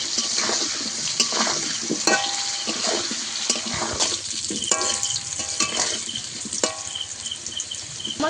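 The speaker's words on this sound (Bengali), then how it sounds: "আলুটাকে ভালো করে উল্টে পাল্টে একটু লাল করে ভেজে নেব।" Potato pieces frying with salt and turmeric in a home kitchen pan, a steady sizzle broken by frequent scraping and clinking as a spatula turns them, close and continuous with no talking.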